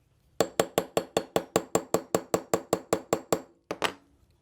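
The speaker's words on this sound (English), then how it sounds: "We'll just need our 3/32 inch punch and we'll tap it out." A hammer taps a 3/32 inch punch to drive a pin out of a Ruger LC9 pistol: about fifteen sharp, evenly spaced metallic taps, close and crisp, then a short pause and two final taps.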